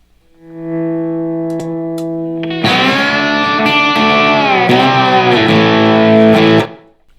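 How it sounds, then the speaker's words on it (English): Electric guitar amp run through an Echo Sex Baby delay set as a slapback with slight warble: sustained chords ring alone, then a louder, thicker strummed passage swells and wobbles before stopping. "Using the Echo Sex like a slapback with a little bit of warble in it to give a little bit of a thickness"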